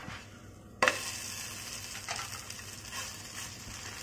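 A pumpkin gharage, a traditional Marathi flatbread, roasts in a pan after being flipped, a faint hiss that jumps with a sharp sizzle at the flip and then settles into a soft, steady crackle.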